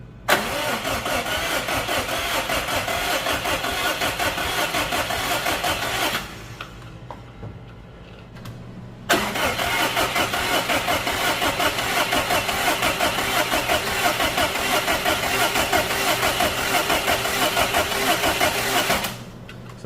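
A freshly rebuilt Subaru Impreza WRX STI engine cranks on the starter without firing, with no spark coil and no fuel. It churns loudly in a long steady burst, pauses briefly, then cranks again for another long stretch.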